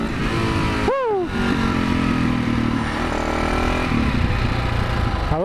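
A supermoto motorcycle ridden at speed gives a loud, steady engine drone with wind rush throughout, close to the rider's helmet, with a brief whoosh of a passing vehicle near the start.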